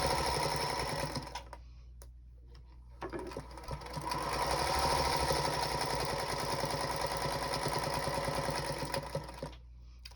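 A sewing machine stitching a quilt block with a quarter-inch seam, running in a steady close mechanical whir with a couple of brief pauses before continuing for a longer, even run.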